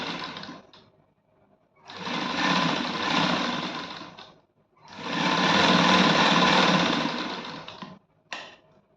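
Sewing machine stitching a simple shirt, two long steady whirring runs of rapid needle action separated by short pauses, with a brief burst at the end, close and loud.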